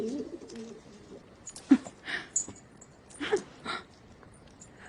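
A messenger pigeon gives a few soft, low coos at intervals, fairly close, over a quiet background with faint hiss and light noises.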